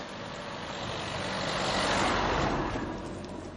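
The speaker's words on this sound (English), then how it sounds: "Whoops, car coming, lads." A car drives past on an old Roman road along a hillside dike walk, a broad engine and tyre rush swelling to a peak near the middle and fading away, with no talk.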